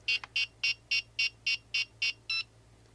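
A small RC helicopter emits a run of nine short, evenly spaced electronic beeps as it initializes, clear and close, the last beep slightly different before silence.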